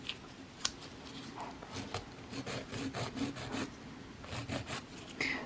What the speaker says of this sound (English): So I'm just going in, filing in that smile line.